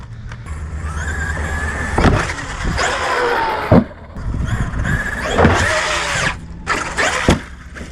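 A small electric motor of a Traxxas Maxx or X-Maxx radio-controlled monster truck on 8S power whines and revs up and down in bursts, loud and close, with brief spikes as the truck lands or jolts.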